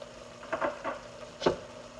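Spicy chicken pasta sizzling in a pan gets stirred, with a few short scraping strokes against a steady frying hiss, close up and with no talking.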